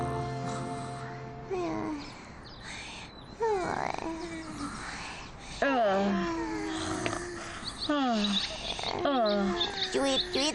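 A cartoon bird chirps in quick, bright bursts of high tweets at night, repeated several times among speech and background sounds of an animated scene.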